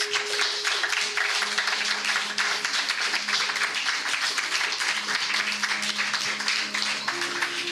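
A church congregation applauds Jesus Christ during a worship service, steady dense clapping filling the room with no break, while a faint sustained musical tone runs underneath.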